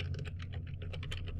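Rapid keystrokes on a computer keyboard as a web address is entered into a Firefox search bar, a steady close clatter of clicks with no talking.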